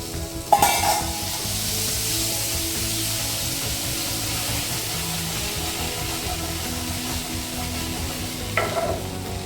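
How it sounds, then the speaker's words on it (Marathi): Stuffed ridge gourd with masala filling steaming under a lid in a pan, giving a steady, continuous close sizzle and hiss throughout, with a sharp clink at the start and another near the end. "5 मिनिटं हे वाफवून घ्यायचे आहे"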